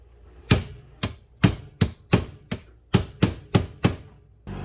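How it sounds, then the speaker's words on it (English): About ten sharp hammer blows in a steady rhythm drive a pin out of the brake handle on a 1966 Ford Mustang, close and loud with quiet gaps between strikes. "We got to drive this pin in, remove the handle"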